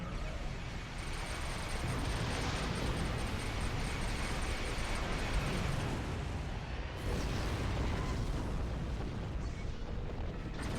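Weapons auto-firing aboard a ship in a space game, a dense, continuous barrage of booming blasts and bursts that roll on steadily without any talk.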